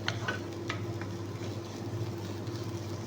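Meat for laham nashep stirred and dry-sautéed in a pan with no oil, giving a soft steady sizzle with a few scraping stirs over a constant low hum.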